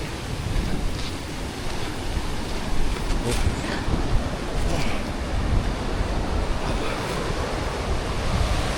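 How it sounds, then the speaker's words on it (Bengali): Loud, continuous roar of ocean surf with low rumbling waves washing in at Devil's Tears, Lembongan, Indonesia, mixed with wind buffeting the microphone. "বসে বসে সমুদ্রের গর্জন"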